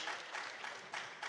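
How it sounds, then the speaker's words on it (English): An audience at a school science and maths quiz championship applauds a quiz team, a faint, distant patter of clapping that swells and dips in short waves. "Can we give them a round of applause?"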